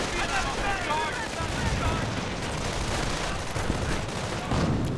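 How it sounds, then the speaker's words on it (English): Battle in a 1v1 strategy video game: grenadiers and a light machine gun fire in a dense, continuous crackle of gunfire with rumbling blasts, loud and unbroken throughout. "Grenadiers firing away, LMG blasting."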